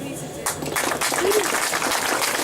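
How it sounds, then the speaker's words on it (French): A crowd at an outdoor street fair, a braderie in northern France, breaks into applause, the clapping swelling after a moment and mixed with voices and chatter. "Je veux que nous puissions les applaudir."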